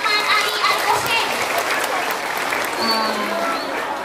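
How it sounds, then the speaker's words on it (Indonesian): A crowd claps for a young boy at a religious gathering, brisk applause with scattered voices and children's chatter mixed in, holding fairly loud throughout. "Tepuk tangan untuk Muhammad Alif Al-Musim"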